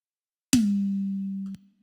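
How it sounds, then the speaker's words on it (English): A single triggered high tom drum hit with a sharp attack, then a steady low pitched ring that sustains for about a second before cutting off abruptly. "So this is it with my trigger tom."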